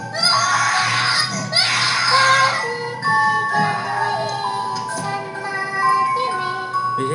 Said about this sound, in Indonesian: mereka lari, berlari dan berteriak karena takut melihat makhluk tersebut